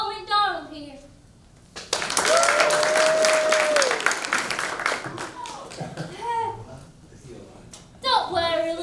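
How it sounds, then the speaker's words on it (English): Audience applause and clapping at a high school drama performance, a loud sustained burst of many hands lasting a couple of seconds, with a child's and adults' voices talking before and after and a sung tone over the clapping. "let's give another round of applause for Old MacDonald here"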